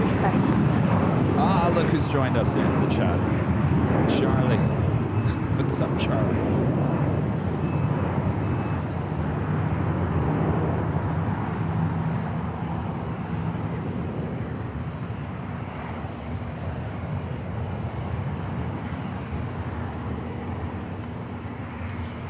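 An airliner takes off from runway 25 left at LAX, a loud rumbling engine roar that slowly fades as someone talks over it.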